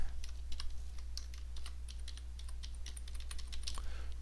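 Rapid, steady keystrokes on a computer keyboard, clicking close and clear over a low constant hum, with no talking.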